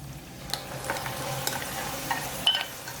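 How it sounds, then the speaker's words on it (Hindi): Onions, ginger garlic paste and marinated chicken for butter chicken fry in a pan with a soft steady sizzle, broken by a few scraping stirs and one sharp clink of a utensil against the pan. "चंद सेकंड फ्राई करने के बाद हम इसके अंदर मैरिनेट किया हुआ चिकन ऐड करेंगे"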